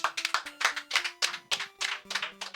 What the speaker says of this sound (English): a round of applause for our 4 runners